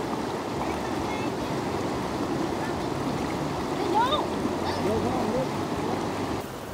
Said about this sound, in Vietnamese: Nước ở chỗ cái suối này là chảy quanh năm luôn á